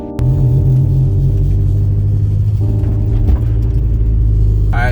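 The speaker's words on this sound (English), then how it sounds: "we're pulling up to the spot right now, and we see nothing but S2000s and Hondas" A Honda S2000 sports car rolls up to a Honda meet with a steady, loud low engine rumble and exhaust drone. A brief mechanical clunk sounds near the middle, and a faint voice is heard at the very end.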